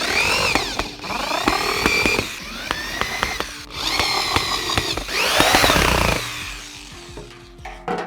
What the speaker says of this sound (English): I'm gonna go ahead and take my drill and slowly finish them.